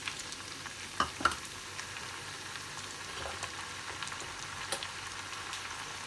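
Pumpkin and potato pieces fry with added tomatoes, giving a soft, steady sizzle with a few clicks and scrapes from stirring, close but quiet.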